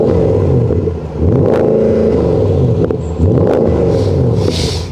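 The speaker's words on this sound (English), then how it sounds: "Okay, Paul, let's hear this V8." A Mercedes ML63 AMG naturally aspirated V8 engine is revved hard twice, each burst rising into a deep, loud roar before settling back toward idle, heard close with no talking.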